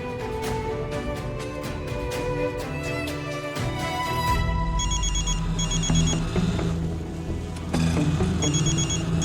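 A telephone rings during an outgoing call in a family drama, repeated bursts of ringing tones over steady background music, loud and close with no voices.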